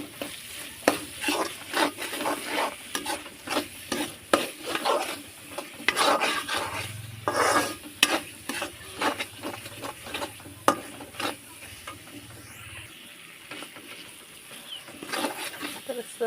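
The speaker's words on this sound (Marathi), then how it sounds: "टमाटर सॉस टाकून घेते आणि मिक्स करून घेते" Tomato sauce is stirred into pasta in a pan, a spoon scraping and swirling in repeated rhythmic strokes over a soft sizzle, with occasional brief voice and a low hum midway.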